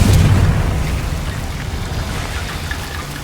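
Confringo fire spell explosion in the video game Hogwarts Legacy: a deep, loud booming blast at the start, then a rumbling, crackling tail that fades slowly over about three seconds, with no talking.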